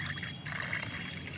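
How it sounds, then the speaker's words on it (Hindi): Plain water pours steadily into a container of liquid plant fertilizer, producing a continuous close trickling splash that lasts the whole moment without pause. "1 भाग फर्टिलाइज़र और 2 भाग आपको इसमें सादा पानी मिलाना है"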